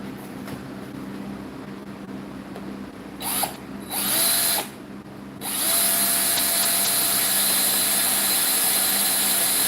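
A power drill whirs briefly in a couple of short bursts, then settles into a sustained, loud motor whine during work on a steampunk retro robot projector build, with no talk over it.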